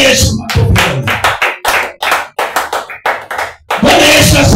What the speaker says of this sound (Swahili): Pigia Yesu makofi.